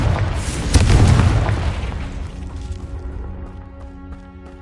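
Confringo fire-blast spell from the Hogwarts Legacy video game going off in a fight with poachers: a heavy booming explosion peaks early, then rumbles and decays over a few seconds under sustained game music.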